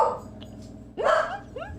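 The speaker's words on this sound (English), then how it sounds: "Oh, and Finway's barking" A pet dog barks indoors at home, two short barks standing out clearly above a quiet room background, the second bark louder and followed by a smaller yelp.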